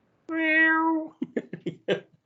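A cat in the video game Stray gives one long, clear, drawn-out meow, then a string of short chirping mews, close and alone.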